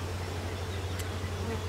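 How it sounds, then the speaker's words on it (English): Dense, steady buzzing of many honeybees close by at a newly made nucleus hive being inspected, a continuous low drone with no voices. "I don't crush any bees."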